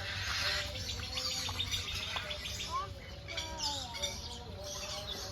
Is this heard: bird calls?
yes